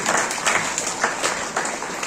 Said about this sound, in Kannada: ಇಂಥ ಶಿಕ್ಷಕರಿಗೆ ಒಂದು ಜೋರಾದ ಚಪ್ಪಾಳೆಯನ್ನು ನೀಡುವ ಮೂಲಕ ಅವರನ್ನು ಗೌರವಿಸಲಾಗಿದೆ